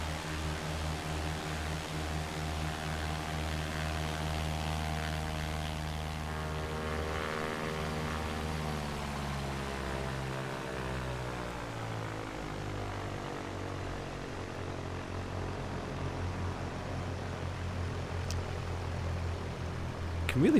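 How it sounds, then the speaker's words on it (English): Propeller airplane engine in the X-Plane flight simulator game: a steady, loud droning hum with layered harmonic tones that shift slightly in pitch midway, running continuously alone for the whole stretch. "You can really feel the plane slipping through the air though."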